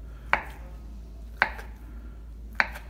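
A knife slicing through deveined foie gras lobes onto a board, three sharp, distinct chops spaced about a second apart, close and clear over a quiet background.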